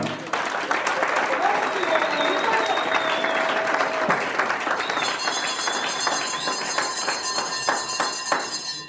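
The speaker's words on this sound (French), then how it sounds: "veuillez acclamer très fort pour le frère Pedro Cabana" Loud, sustained applause for Brother Pedro Cabana fills a wedding reception, dense clapping from a large gathering with some crowd voices mixed in and a few sharper claps near the end.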